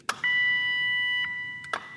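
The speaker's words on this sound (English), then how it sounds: "You'll hear the machine do an alarm." A Winlet glass lifter machine alarm sounds: a short blip, then a long steady electronic beep, followed by two brief beeps at the end.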